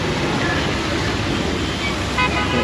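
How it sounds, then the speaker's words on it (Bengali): Traffic roaring past on a national highway in Bangladesh, a loud, steady wash of engine and road noise with a car horn tooting briefly near the end. "এটা হচ্ছে আমাদের ন্যাশনাল হাইওয়ে অঞ্চল"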